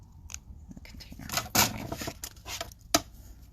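A pair of oversized scissors snips through a paper card panel with several sharp, crisp cuts at irregular intervals, close and fairly loud against quiet rustling.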